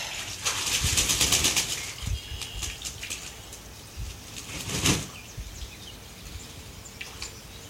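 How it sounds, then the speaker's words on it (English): A Muscovy duck bathes in a rustic barn setting, splashing water and flapping its wings in loud, close bursts, with a big flurry early on and another near the end, separated by quieter rustling and dripping. "This is how Muscovy ducks take a bath."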